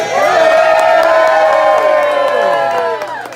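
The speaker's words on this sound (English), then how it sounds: "Come on and cheer your way over here." A crowd cheers and whoops loudly at a creator camp awards event, a dense sustained roar of voices that fades slightly toward the end.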